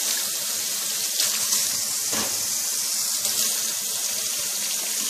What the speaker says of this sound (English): so let's wash our potatoes off.